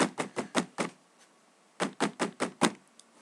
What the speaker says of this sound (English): there's this banging on the door of your house.